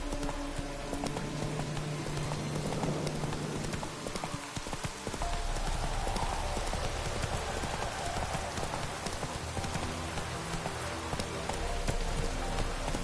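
Roach, the horse in The Witcher 3: Wild Hunt, gallops through rain, rapid rhythmic hoofbeats over a steady patter of rainfall, with a brief whinny.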